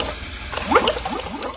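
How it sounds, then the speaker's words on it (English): A running-water sound effect trickles and gurgles steadily from a Lego WeDo model, fairly close, with the soft mechanical hum of its turning motor underneath. "You can hear the water sound."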